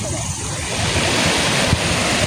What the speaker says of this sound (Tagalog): Dagko kay balod oh.